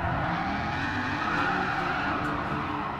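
GT Sport racing game with cars drifting through a street course, a continuous loud tire skid and squeal layered over engine roar, sustained and unbroken.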